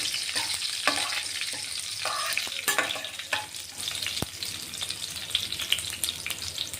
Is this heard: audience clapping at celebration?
no